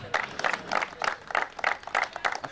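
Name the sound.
players clapping to welcome a guest on stage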